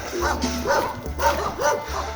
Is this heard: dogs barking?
yes